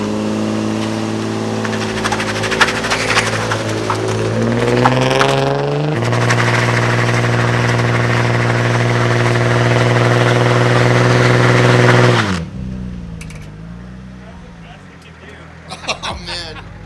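A car engine with a welded differential idles steadily and close, holding a low droning hum with a brief rise in pitch, while people talk over it; the engine cuts out near the end.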